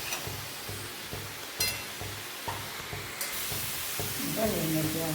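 Mango pickle being stirred in a hot pan, with soft scraping and a low steady sizzle running throughout, slightly louder toward the end.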